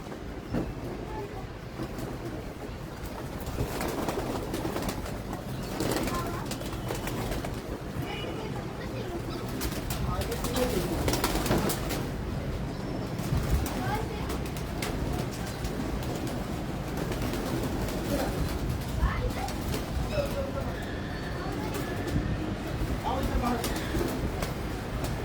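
Pigeons coo softly in a noisy setting with a train rumbling nearby, their low repeated calls partly buried under constant mechanical noise, while people talk throughout.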